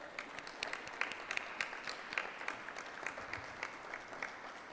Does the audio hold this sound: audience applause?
yes